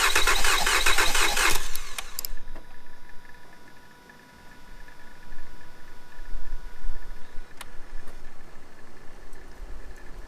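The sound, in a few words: Mazda 6 3.0 engine cranking over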